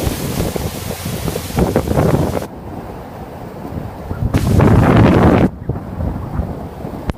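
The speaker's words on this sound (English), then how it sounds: "waterfalls in the Enchanted Wood become stronger and faster flowing" A strong, fast-flowing waterfall in a wooded glen rushes in a broad, loud wash, heard close, with gusty swells and sudden drops as the roar comes and goes.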